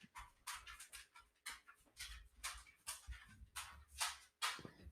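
Dogs pant in quick breathy bursts with soft whimpers mixed in, close and fairly quiet, with a low rumble underneath.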